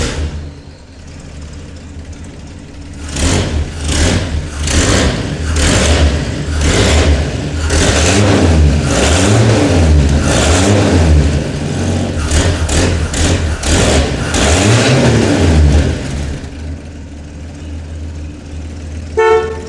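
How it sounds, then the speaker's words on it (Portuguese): A Chevrolet C10/C14 pickup truck engine is revved repeatedly in loud, close bursts that rise and fall over a rumbling idle, with no voices over it. "E o Milton vai acelerar lá dentro."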